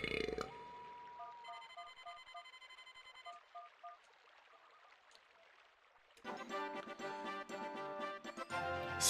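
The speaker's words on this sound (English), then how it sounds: "Stock burping sound effect" A stock cartoon burp effect from the GameCube game Star Fox Adventures, made by Rare, plays once over chiming game music and jingles, fairly quiet within the mix.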